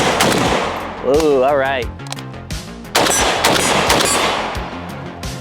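A Draco AK pistol fitted with a rail and optic mount fires several sharp, loud shots outdoors, close-range cracks followed by ringing echoes, with a man's short exclamation between them.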